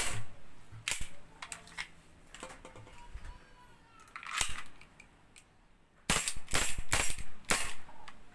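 An airsoft pistol firing after its valve was replaced, a series of sharp close-up cracking shots, scattered at first and then louder and faster toward the end, with no talk.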